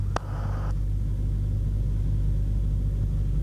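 Stoddard Hamilton Glastar light aircraft engine during takeoff on a runway, a steady low droning rumble held loud and close throughout, with a brief click near the start.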